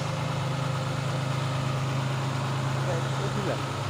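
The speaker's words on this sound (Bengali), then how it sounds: "দেখতেই পাচ্ছেন ইঞ্জিন সাউন্ড কন্ডিশনটা কেমন, কি ইঞ্জিন সাউন্ড কন্ডিশনটা ভালো রয়েছে" A Tata 2518 dump truck in good running condition idles with a steady low diesel drone and constant rumble, someone talking over it throughout.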